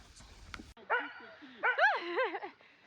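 Sled dogs bark and yelp excitedly before the start of a 30 km race, high rising yips and whines overlapping in quick bursts, fairly near, amid outdoor noise and a brief thump.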